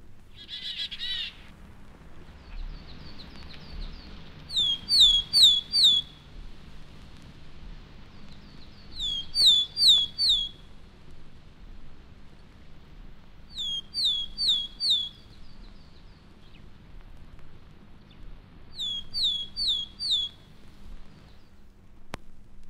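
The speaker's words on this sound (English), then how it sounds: "The willow tit has a rare song that I've heard sometimes in April. It's a slow series of loud, melancholy notes reminiscent of the piping sounds of the wood warbler." A willow tit in British woodland repeats a slow series of loud piping notes in evenly spaced bursts of four or five, clear over a quiet low background hum.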